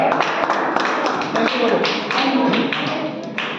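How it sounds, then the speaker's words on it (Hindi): A group of children clap together for a classmate at a children's class camp, a steady dense burst of many small hands lasting several seconds, loud and close. "ताली बजाओ इसके लिए एक बार"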